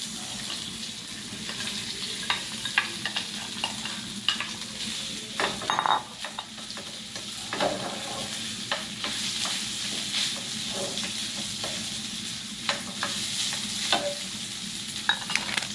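Rice stir-fried in an oiled pan with garlic for fried rice, a constant sizzle broken by repeated scraping and clattering strokes of a utensil against the pan, close and busy throughout.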